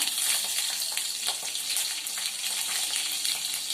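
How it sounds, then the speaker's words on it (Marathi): Mustard seeds, a chili and curry leaves sizzle and crackle in hot oil for a Malvani-style yogurt kadhi, a steady close hiss with no talking. "त्यात आपण पहिला राई टाकायची. राई टाकली का त्यात एक मिरची टाकते, कढीपत्ता"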